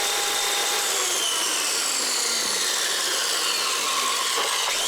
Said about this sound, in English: seen plenty of workers just use a wood blade on light aluminium like I'm cutting here